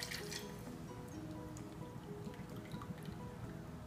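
Cointreau orange liqueur being poured for a cosmopolitan: a soft, continuous trickle of liquid filling a measure or glass, close but quiet, with no voices.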